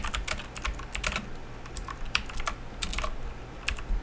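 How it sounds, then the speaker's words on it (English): Rapid, irregular typing on a computer keyboard, with clustered key clicks up close over steady low background hum and no voices. "Maybe I was just typing something"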